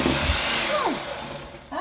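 A stand mixer runs on low, whirring steadily as it stirs gluten-free sourdough ingredients, and a brief higher squeak or whine cuts through near the end.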